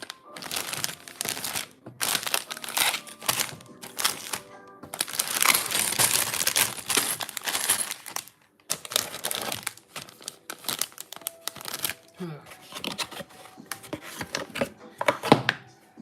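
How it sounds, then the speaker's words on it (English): Crinkling plastic bags from a LEGO set, handled close up in repeated bursts of rustling and crackling, with brief pauses and a few soft thunks of pieces shifting. "The return of plastic bags."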